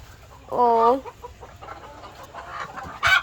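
A single hen call near the start, loud and harmonic, followed by quieter farmyard background and a brief sharp sound at the end.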